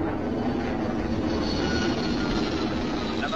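An aircraft flies low on reserve fuel while searching for a place to land, its engine a dense, continuous rumbling roar at a steady level throughout.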